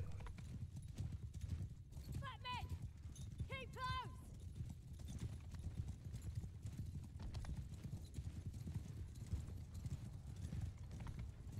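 Cavalry horses gallop in Mount & Blade II: Bannerlord as Khuzait horse archers charge, a dense, steady clip-clop of many hooves throughout, with a couple of sharp whinnies breaking through early on.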